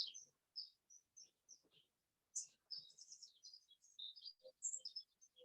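A songbird gives a lively series of high, thin chirps and twittering phrases. The notes come in uneven bursts separated by brief pauses and are fairly faint against a quiet, still background with no speech.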